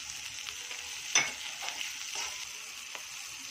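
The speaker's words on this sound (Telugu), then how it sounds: "ముందుగా తరిగించుకున్న క్యాప్సికమ్ స్లైస్ ఇందులో వేసుకోవాలి." Sliced capsicum frying in a pan for batani chaat, a steady quiet sizzle with a sharper scrape or stir about a third of the way through and a few softer stirring touches after, no voices.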